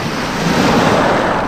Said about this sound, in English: It's a bit windy tonight as well.